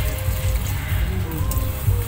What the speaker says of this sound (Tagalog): lagyan natin ng kunting tubig kasi medyo matigas pa siya